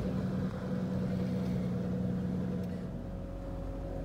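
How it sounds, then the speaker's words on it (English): Engine of a truck-like vehicle used for camping, louder than a minivan, idling as a steady low hum with a sustained tonal drone, close and continuous, with a slight drop in level near the end. "I forget this is a bigger engine, more of a truck. It's a little noisier."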